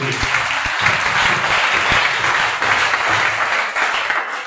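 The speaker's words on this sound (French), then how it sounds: "Donne-moi cette acclamation pour la gloire de Dieu." A church congregation at a mass prayer service bursts into sustained applause and acclamation, a loud, dense wash of clapping and cheering that fills the room for several seconds.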